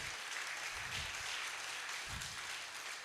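Faint, steady applause from an audience at a valedictory lecture at The Polytechnic, Ibadan, heard as a continuous wash of clapping with a couple of low thumps and no talk.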